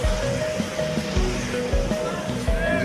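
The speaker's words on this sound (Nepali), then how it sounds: "बाहिरतिर अझै पानी परिरहेको छ" Rain falls steadily outside in a continuous rushing wash, with some low thumps and faint tonal background sounds mixed in.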